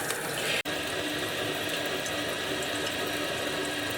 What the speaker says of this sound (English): the water is continually running